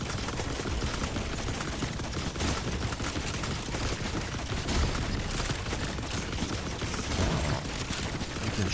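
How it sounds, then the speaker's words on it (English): A gun firing in The Last Caretaker video game, a dense, continuous rattle of rapid shots at low volume, steady throughout with no pauses. "He can shoot his gun off"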